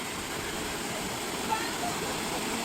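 Spring water at Balempalis Spring rushing and flowing in a steady, dense wash close by, with no pause throughout.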